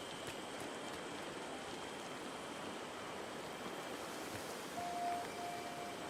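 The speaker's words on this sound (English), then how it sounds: "It's raining." Steady rain falls in the Disney Dreamlight Valley video game, a soft, even hiss that continues unbroken throughout, with a thin tone rising faintly near the end.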